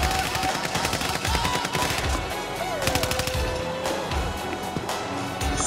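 Rapid bursts of automatic gunfire crackle through a Warzone video game match, dense overlapping shots and volleys filling the scene with brief gaps between strings.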